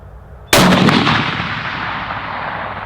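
Precision hunting rifle fired at a steel plate near a dirt berm: a single loud, close blast followed by a long rolling echo that fades slowly.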